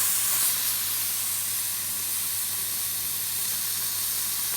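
A pepper steak just flipped in a hot pan sizzles in a steady, close, bright hiss that holds at an even level throughout, with no talk over it.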